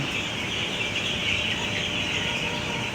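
Young broiler chicks, ten days old, in a partitioned shed on a poultry farm, making a dense, continuous high chorus of peeping and chirping with no gaps, fairly loud throughout.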